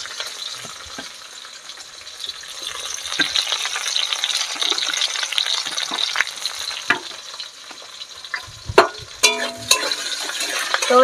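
Onion and split green chillies sizzle in a hot pan, a steady close crackle of frying broken by scraping stirs and a few sharp clinks near the end.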